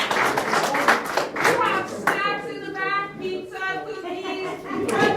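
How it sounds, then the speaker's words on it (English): Attendees at a Morongo Valley board meeting clap after the meeting is called off. Scattered handclaps come through beneath overlapping voices and crowd chatter, with a news narrator speaking over the scene. "Tolbert's announcement was met with an uproar of applause"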